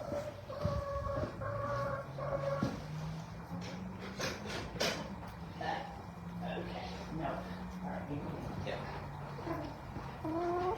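Farm chickens cluck and murmur close by in short, repeated bursts while people talk over them in an outdoor setting.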